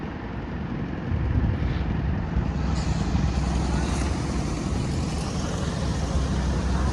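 Steady low engine rumble of a car on the road, with broadband road noise rising slightly after the first second and holding constant.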